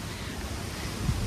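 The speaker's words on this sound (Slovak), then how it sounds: "Ako vidíte a počujete, tak nám tu opäť riadne fúka." Strong wind blows outdoors on a sunny day, a steady, loud broadband rush of wind buffeting the microphone throughout, with no talk.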